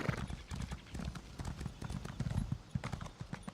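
Horse hooves clip-clopping in The Elder Scrolls Online, a quick, steady rhythm of soft thuds as the horse trots, fairly quiet and close, with brief faint game sounds around it.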